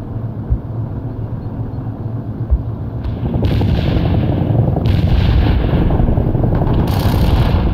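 Artillery barrage rumbling in the World in Conflict strategy game, Soviet Assault campaign: a few sharp thuds first, then a dense, sustained roar of overlapping blasts with bursts of brighter crackle, loud and continuous to the end.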